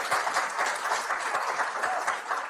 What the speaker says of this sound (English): Remember, folks, hold the applause to the end.